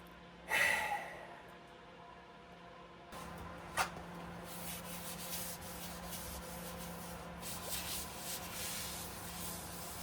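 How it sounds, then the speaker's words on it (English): Sanding on the rocker panels and cab corners of an old shop truck being restored, heard as a continuous soft scratchy rubbing with a louder scuff near the start and steady strokes throughout. "So let's get to sanding."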